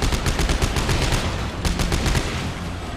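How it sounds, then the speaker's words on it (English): Quick repeated pistol shots in Dead Space 3, a fast string of sharp cracks close and loud over a rumbling game background, with no talking. "I am liking this pistol."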